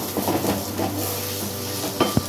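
Dried chili powder being sautéed and stirred in a pan for Kashmiri chicken kanti: a steady close sizzle with scraping strokes, capped by a couple of sharper clinks near the end.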